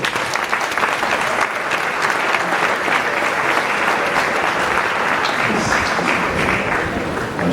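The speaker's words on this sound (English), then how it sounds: "Please give him a round of applause." An audience applauds at a university's 27th inaugural lecture, honouring the professor. The clapping is dense and sustained, holding a steady level for about seven seconds.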